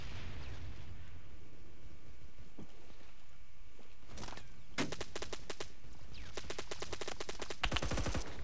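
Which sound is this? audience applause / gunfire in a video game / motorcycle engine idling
gunfire in a video game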